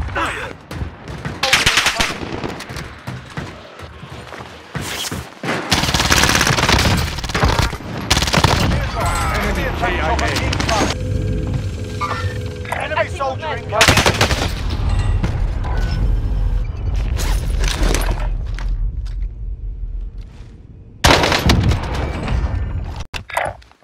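Video game gunfire: dense, loud bursts of automatic weapon fire and booming shots in rapid succession, nearly continuous with a few short gaps, with voices talking underneath.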